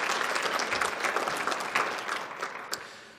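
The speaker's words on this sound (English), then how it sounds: "So I'd like to really give a round of applause to everyone on council" At a State of the City address, the audience gives a round of applause for the city council, a dense spread of clapping from many people, moderately loud and tapering off after about three seconds.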